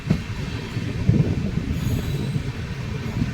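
A train rumbles steadily into Ekta Nagar railway station in Gujarat, with rolling wheel noise and faint squeal, a continuous heavy clatter as it moves through.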